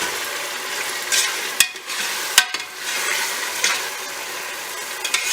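Ginger garlic paste frying in a pot for mutton biryani gives a steady close sizzle and hiss, broken by a few sharp clinks and scrapes from stirring.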